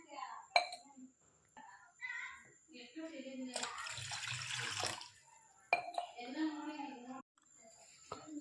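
Water poured for a jeera, ajwain, cinnamon and fennel weight-loss drink, a burst of splashing pouring lasting about a second and a half, close by, with speech before and after it and light clinks of a vessel.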